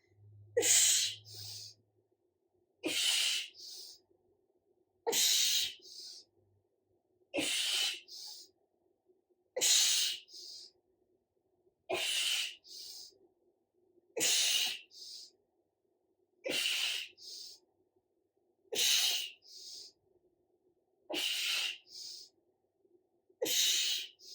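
Forceful, breathy exhales repeat about every two and a half seconds during a core workout, in a steady rhythm, loud and close, with quiet gaps between the bursts.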